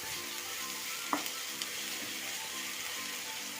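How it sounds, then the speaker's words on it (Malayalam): Ginger-garlic paste sautéing for pepper chicken, a steady soft sizzle with a faint low hum underneath and a couple of brief utensil taps, no talking. "ഇതുകൂടെ ഒന്ന് വഴണ്ട് വരട്ടെ ഇഞ്ചിയുടെയും വെളുത്തുള്ളിയുടെയും പച്ച മണമെല്ലാം ഒന്ന് മാറുന്നത് വരെ ഒന്ന് വഴറ്റാം"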